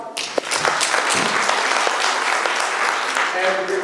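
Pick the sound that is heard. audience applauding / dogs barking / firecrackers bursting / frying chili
audience applauding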